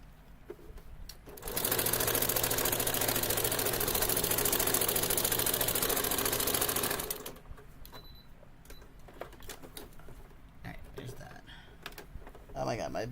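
A sewing machine runs a steady stitching burst of about five seconds, then stops as the bobbin runs out, followed by quiet handling clicks and a voice talking nearby.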